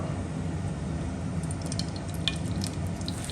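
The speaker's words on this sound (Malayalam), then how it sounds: "ഒരു ഫ്രൈ പാൻ എടുത്ത് ചൂടാക്കി അതിലേക്ക് നമുക്ക് നെയ്യ് ചേർത്ത് കൊടുക്കാം." A soft, steady sizzle of coconut pieces frying in ghee in a hot pan for Kerala rice payasam, with faint pops and crackles throughout, close and fairly quiet.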